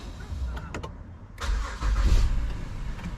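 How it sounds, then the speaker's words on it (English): An Acura MDX showing an emission system fault warning cranks and starts: a brief whirring crank, then the engine catches and settles into a low rumbling idle, heard close up with no talking. "I'm gonna turn it on."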